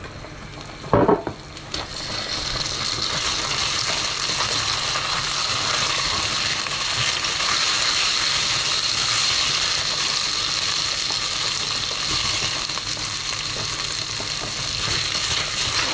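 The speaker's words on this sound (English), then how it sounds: "And fry the rice for a bit longer." Arborio rice frying in olive oil in a pan for an 'nduja and chicken risotto, a steady close sizzle with soft stirring scrapes running throughout after a brief thump near the start.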